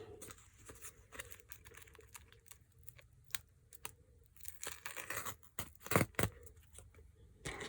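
Scissors snip and trim paper while making a gatefold shutter card, giving quiet, irregular cuts and crinkles with a sharper rustling flurry near the end, all without talking.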